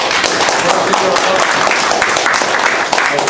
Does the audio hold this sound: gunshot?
no